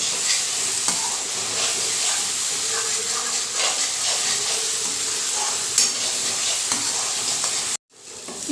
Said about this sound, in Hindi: यहाँ मसाला को भूनते हुए मीडियम टू हाई फ्लेम के ऊपर 3 से 4 मिनट हो चुका है।